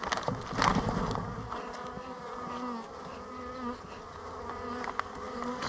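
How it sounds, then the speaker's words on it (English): Honey bees buzzing close by as they feed, a continuous droning hum with wavering pitch, a few louder passes near the start, and no talk over it. "there's still a few bees in here."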